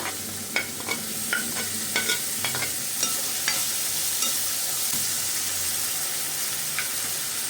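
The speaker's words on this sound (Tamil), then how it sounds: "வெங்காயம் ஓரளவுக்கு பாதி வெந்துருச்சு நல்லா வெந்து வதங்கினோன்னே தக்காளி போட்டுக்கலாம்" Onions frying in a pan with a constant bright sizzle, while a spoon stirs them with a few light scrapes and taps near the start.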